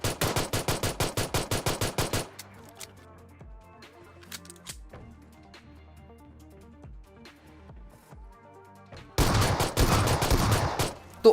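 Gunfire from the mobile battle royale game PUBG Mobile, with a rapid burst of loud shots at the start, a quieter stretch of faint in-game sounds, then another dense, sustained volley near the end.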